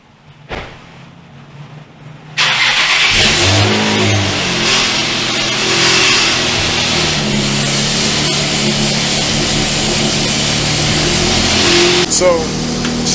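Loud car engine revving hard and close, a growling roar that starts abruptly after a quiet idle and holds with repeated throttle blips over several seconds.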